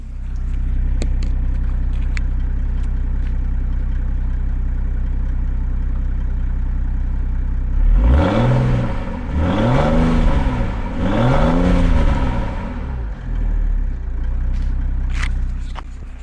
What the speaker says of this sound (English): I'm going to put the microphone near the exhaust to see if you can hear it.